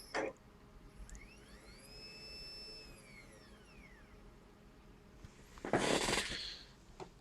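A CD/DVD-ROM spindle BLDC motor driven by a TA8493AF controller spins up and back down, a quiet rising and falling whine, followed by a louder burst of whirring noise near the end.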